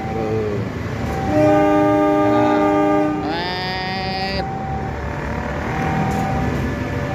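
A CC201 diesel locomotive horn blares in long sustained tones, with a rising shift partway through, over the steady rumble of the passing train.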